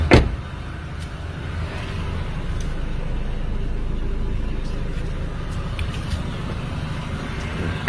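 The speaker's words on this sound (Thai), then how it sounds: "นี้รถสตาร์ทหนึ่งครับ เครื่อง เงียบมากครับ เงียบกิบเลยครับ" A 2011 Chevrolet Aveo with an automatic gearbox idles steadily and quietly at close range, a low even hum with a click at the start, as someone talks over it.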